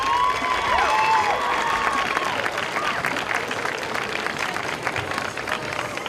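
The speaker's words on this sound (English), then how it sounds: "let's give the board and everybody in the community who had a hand in this a round of applause" Crowd applause fills the opening ceremony for a new school aquatic center, steady and dense clapping with some cheering and whistles mixed in, fading slightly toward the end.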